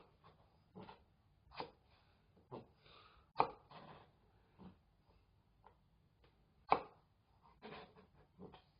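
A knife slices raw fish for sashimi on a cutting board, giving about a dozen quiet, separate taps and strokes at irregular intervals with near silence between them.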